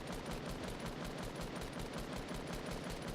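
Rapid automatic gunfire rattles at a wall in the video game Fortnite Battle Royale, a fast, even string of shots repeating throughout at a fairly low level.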